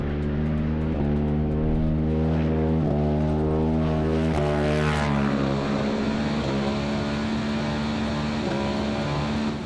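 A Polaris RZR side-by-side, tested for the Finke Desert Race, is run at full throttle toward top RPM. Its engine drones loudly and steadily, then its pitch climbs and shifts partway through, with no voices.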